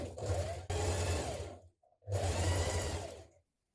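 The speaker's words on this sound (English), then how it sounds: "Now as you sew this seam in place, make sure that you line up your notches also and that it doesn't shift." A sewing machine stitches a blouse seam in two short, close whirring bursts with a brief pause between them, loud and steady on its own.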